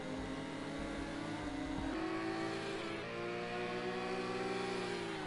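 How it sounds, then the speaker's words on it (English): A Lamborghini race car engine in a racing video game, revving high and steady with the pitch rising and dipping as it runs continuously, with no talk over it. "Here comes the Lamborghini now to the outside, and has swiftly replied there with an overtake"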